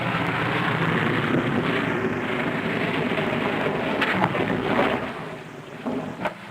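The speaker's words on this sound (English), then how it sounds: "The one-engine landing is tricky at best." A one-engine plane on skis lands on Antarctic ice, a loud broad roar of engine and wind that holds steadily, then eases with a few gusty bursts near the end.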